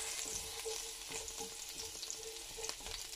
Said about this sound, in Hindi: इसके अंदर हम लहसुन ऐड करेंगे। तो बस इसको 1 मिनट तक हम इसमें सौटे करेंगे